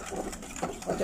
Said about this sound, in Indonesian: Ini tadi saya sudah pecahkan 2 telurnya dan kemudian kita kocok-kocok gini.